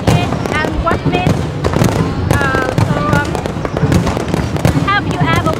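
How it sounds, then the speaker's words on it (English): Fireworks burst over a crowd at the Da Nang International Fireworks Festival in Vietnam, with repeated sharp cracks and pops under close, loud crowd chatter and speech. "I've come over to watch the fireworks."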